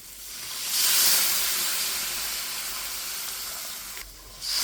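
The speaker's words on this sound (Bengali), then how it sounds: "আর এখন আমি এখানে দিয়ে দেবো গরম জল" Hot water poured into fried, oil-releasing spice paste for tilapia bhuna, bursting into a loud hiss and sizzle of steam, then easing to a steady frying crackle, with a second hiss flaring near the end.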